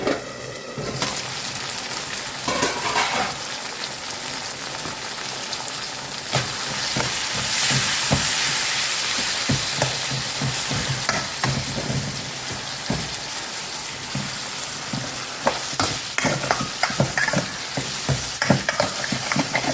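Garlic sautéing for sambar in a covered pan makes a crackling, rain-like sizzle, close and continuous, with frequent sharp pops and stirring clicks growing busier toward the end, and no voices.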